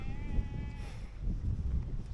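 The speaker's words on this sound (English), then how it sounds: "Listen to that sheep." A sheep bleats once, a wavering cry out on a countryside footpath, heard briefly over outdoor background noise and a little rustling.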